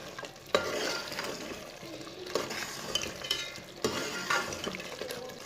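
Mutton masala curry with fresh coriander being stirred in a pot, a spoon scraping and clanking against metal over a steady frying sizzle, close and continuous with a few sharper knocks.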